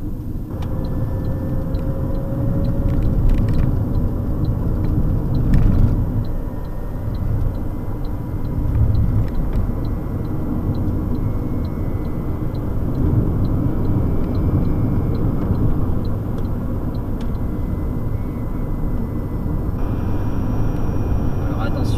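An Autolib Bluecar electric car drives on a motorway, giving a steady, fairly loud interior road and wind rumble that stays constant throughout, with a faint regular ticking running under it.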